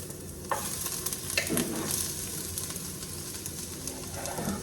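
Vegetables such as onion, tomato and green chilies fry in a pan with a steady sizzling hiss, broken by a few soft scraping stirs, close and moderately quiet, with no one speaking.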